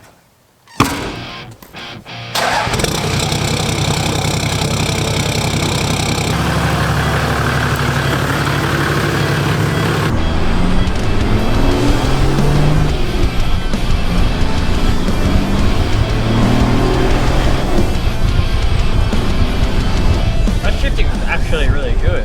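A repaired car engine starts, then idles and runs steadily as the car drives off, the droning note shifting with gear changes, loud and close with a voice talking over it.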